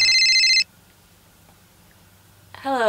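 A phone rings loudly and close in two electronic bursts, one at the start and another returning near the end, separated by a quiet gap of low background hum.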